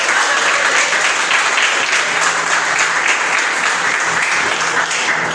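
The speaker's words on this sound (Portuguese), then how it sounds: "Pode aplaudir o Senhor." Loud, sustained applause from a church congregation during a sermon, an even roar of many hands clapping that holds at a steady level throughout.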